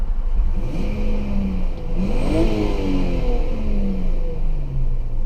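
BMW E46 engine revving up and falling back, a rising and dropping mid-pitched engine note heard alone with some mechanical whir.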